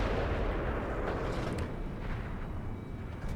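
Heavy tank cannon fire in World of Tanks, a dense booming rumble with a sharp blast near the middle over a continuous low battle roar, loud and close with no talk.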